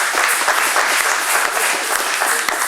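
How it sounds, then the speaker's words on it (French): A church congregation breaks into sustained applause at a Christmas service, dense steady clapping from many hands filling the room at close range with no pauses. "Acclamons pour Luisa."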